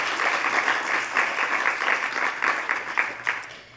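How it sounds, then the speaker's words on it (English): An evening audience at a Boston arts talk applauds the museum staff with steady, dense clapping that fills the room and tapers off at the end. "a round of applause to all of the ICA staff"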